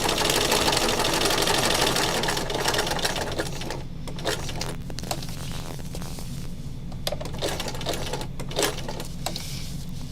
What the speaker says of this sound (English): I just stitch over my initial stitching several stitches, and then I call it done.